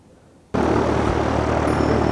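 A Cessna light aircraft's propeller engine comes in abruptly after a brief quiet moment, then holds as a loud, steady, close drone with a throbbing low pulse and broad noise.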